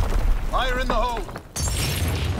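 Grenade explosion in the World War II shooter Call of Duty: WWII: a sudden heavy blast cuts in partway through, following a spoken voice line over a rumbling battlefield background, with scattered debris noise trailing after.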